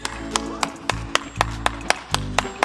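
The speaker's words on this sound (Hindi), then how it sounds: "ताली हो जाए, ताली हो जाए" Several hands clap in a steady, slightly uneven rhythm, about ten sharp claps close by, over a low humming background.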